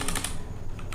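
Rapid keystrokes clatter on a computer keyboard while PHP code is being written, a close, steady burst of clicks with a brief pause midway and no voices.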